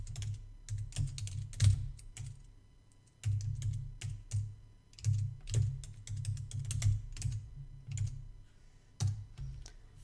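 Close, brisk typing on a computer keyboard sounds as a password is entered, with irregular clusters of crisp key clicks and brief pauses between them. No one speaks.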